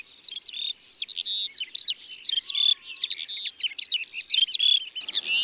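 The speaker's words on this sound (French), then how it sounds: "Plus de 40 espèces d'oiseaux sont répertoriées ici" Several bird species sing in a meadow in Ploufragan, Côtes d'Armor: a rapid, varied stream of close, bright chirps and warbling phrases, nearly continuous, with a brief buzzy trill near the end and no voices.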